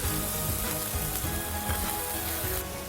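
Loud, steady sizzling as water hits a hot pan of toasted garlic and octopus, a continuous frying hiss with faint stirring and no talk.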